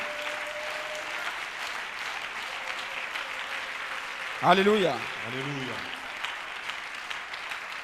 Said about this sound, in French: Donnons-lui une main d'acclamation encore une fois.